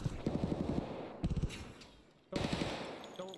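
Gunfire in Escape From Tarkov: rapid automatic bursts crack out in three separated volleys, sharp and fairly close, with a quiet gap between the second and third burst.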